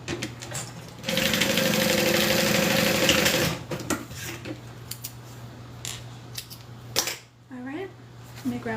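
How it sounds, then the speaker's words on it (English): A domestic sewing machine stitches along the top edge of folded fabric in one close, steady whirring burst of about two and a half seconds. Quieter handling noises and a person talking come before and after it. "and then just sew along the top."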